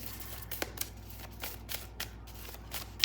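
Tarot cards are shuffled and drawn in a quiet room, a faint run of soft papery flicks and slides with a few sharper snaps, the last one louder near the end.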